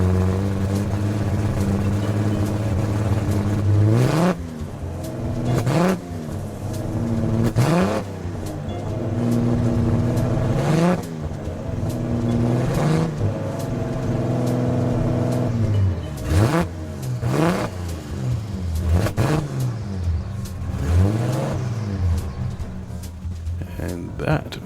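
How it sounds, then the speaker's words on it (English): In Gran Turismo 7, a Toyota Land Cruiser FJ40V engine revs raucously, repeatedly climbing and dropping through gears in a loud, continuous drone, while someone talks over it. "that very spirited noise as well comes from the Toyota Land Cruiser FJ40V"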